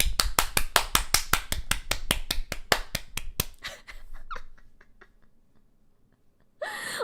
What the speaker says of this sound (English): I'm trying to clap so fucking loud right now.